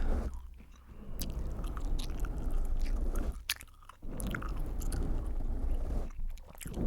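Gum chewed right against the microphone in close ASMR style, a steady stream of wet smacks, squishes and crunchy clicks that carries on with only brief pauses.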